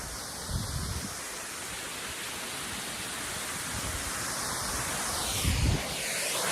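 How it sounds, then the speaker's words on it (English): Waterfall on a tributary of the West River near West Dummerston, Vermont, a steady broadband rush of falling water close by, constant and fairly loud with slight surges, no voices. "now here we have this wonderful waterfall"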